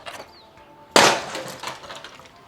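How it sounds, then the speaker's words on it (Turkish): A cassette player thrown from a building smashes to pieces on impact, one loud sudden crash with scattering debris rattling and fading over the next second. "paramparça oldu teyp"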